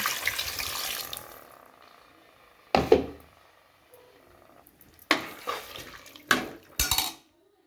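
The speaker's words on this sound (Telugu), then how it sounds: "ఇప్పుడు వాటర్ వేసుకుంటాను" Water pours into a cooking pot with a soft rushing splash, followed by several loud metallic clanks of the pot and utensils against the stove.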